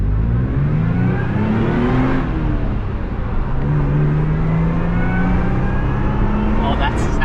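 A supercharged Toyota FJ Cruiser engine, around 700 horsepower, revs and pulls continuously with rising and falling pitch and a whirring supercharger note, loud and close, with voices faintly mixed in.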